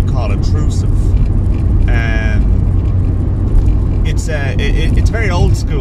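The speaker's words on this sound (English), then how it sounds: "There's a bit of a drone off the engine that comes through the car" Inside a Volkswagen Golf Mk2 with a 1.6 engine and automatic gearbox, a low, steady engine drone and road rumble carry on continuously while driving, with someone talking over it throughout.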